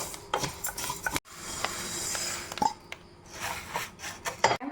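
Roasted rice is scraped and moved from a pan into another vessel with a series of close, irregular metallic scrapes and clinks.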